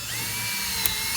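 A drill running with a larger bit while repairing the light switch on a 2000 Ford Ranger, a steady close whine throughout with a brief sharp tick near the end.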